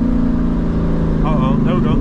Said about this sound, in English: we're gonna first get a downshift right here, Mike.